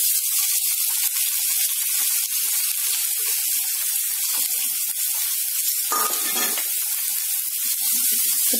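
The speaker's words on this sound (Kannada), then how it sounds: "ಈಗ ಈ ಸೊಪ್ಪನ್ನ ಈರುಳ್ಳಿ ಹಸಿಮೆಣಸಿಕಾಯಿ ಜೊತೆ ಫ್ರೈ ಮಾಡ್ಕೊಳ್ಳೋಣ." Green chillies and onions sizzle steadily in a spoonful of hot oil in a pan, a continuous close, loud frying hiss with a brief crackling burst near the end.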